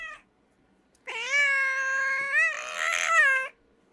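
A pet cat gives one long, drawn-out meow lasting about two and a half seconds, close and clear in a quiet room, with a rising wail near the end.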